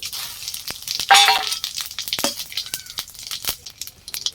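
Whole spices (cumin seeds, bay leaf, clove, cinnamon and cardamom) sizzle and crackle in hot oil, a close, bright hiss with scattered sharp pops.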